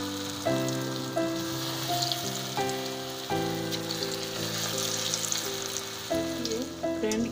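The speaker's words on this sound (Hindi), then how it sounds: "इसी तरह हम सारे पकौड़ी को तल लेंगे" Chana dal pakoras deep-frying in hot oil, a steady close bubbling sizzle with crackling bursts that sharpen each time fresh batter drops in, running continuously with no talking.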